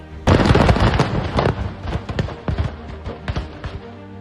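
Fireworks stored in a firecracker shed explode in a dense, loud burst of cracks and booms, then continue as scattered sharp pops and bangs of varying strength, close by and with no talk.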